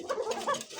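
A fancy domestic pigeon gives a short, close cooing call, two quick warbling notes in under a second, alone and moderately loud.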